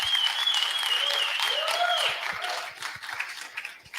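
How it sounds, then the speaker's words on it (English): Audience applause for a tech presentation group, a steady wash of clapping that tapers into scattered individual claps, with tonal whistles or whoops rising above it. "So let's give the Quartal guys a round of applause one more time."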